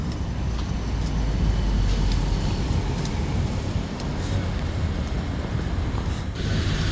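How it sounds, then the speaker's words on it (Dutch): Amsterdam 15th generation tram rumbling in a busy city street, a steady low rolling drone with faint clanks and passing traffic noise. "De Amsterdamse 15e generatie tram."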